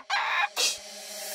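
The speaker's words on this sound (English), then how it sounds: "Hear the cockerel" A cockerel crows on a cattle farm, two loud rising bursts in quick succession with a fainter trailing note, close and clear with no talking over it.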